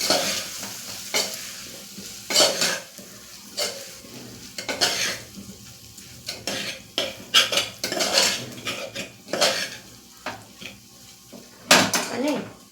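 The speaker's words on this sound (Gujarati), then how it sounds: "એડ કરી આપણે શાકને ફરીથી મિક્સ કરી લેશું" A spoon scrapes and clinks against a pan while guvar potato curry is stirred, producing irregular metallic knocks over a soft sizzle, close and fairly loud, without talk.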